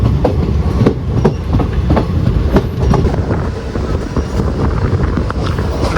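Fast passenger train on a Kerala loop line, continuous heavy rolling roar with a steady clickety-clack of wheels over rail joints every second or so, close and loud with no talk.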